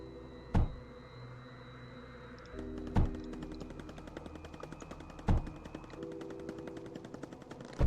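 Bombs striking defensive walls in the video game Mindustry, three heavy explosive thuds spaced a few seconds apart over a rapid, steady gunfire-like clatter of turret shots.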